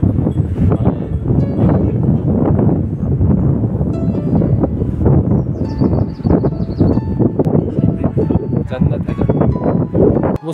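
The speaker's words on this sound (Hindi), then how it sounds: "बढ़िया एकदम मस्त हवा चल रही है" Wind gusting hard across a mountain viewpoint at Mukteshwar, buffeting the microphone in a steady, loud roar while people talk close by.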